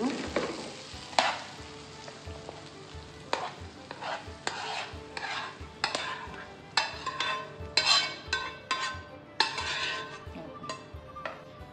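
A spoon scrapes and clinks repeatedly against a pan while fried pulihora tamarind rice is mixed, the irregular stirring strokes coming close and fairly loud over a faint background sizzle.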